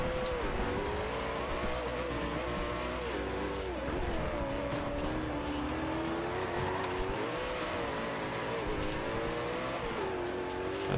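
A Koenigsegg Agera race car in Forza Horizon 2 drives hard, its engine note rising and falling through gear changes and corners, with tire squeal and a continuous loud roar throughout.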